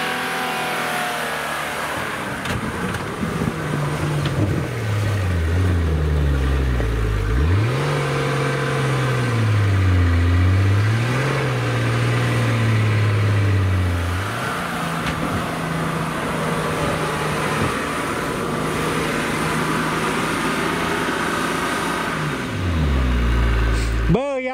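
A Mercedes G-Class is driven off-road with its engine revving and accelerating repeatedly, pitch rising and falling in long surges. It is close and loud, with occasional shouting voices and a clutch being strained.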